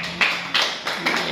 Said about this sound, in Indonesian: Beri tepuk tangan ya teman-teman untuk coach yang sangat dasar nih, Coach Khairul.